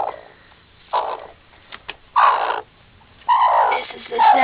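A broody hen wanting to hatch eggs makes low, throaty clucking growls in several separate bursts with quiet gaps between, close up and fairly loud.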